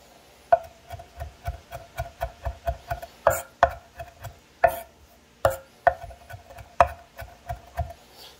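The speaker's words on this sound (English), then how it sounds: "You just want to give it a rough chop," A knife rough-chopping fresh herbs on a cutting board, a brisk series of dull taps in an uneven rhythm with a few sharper, louder knocks mixed in, close and clear with no talking.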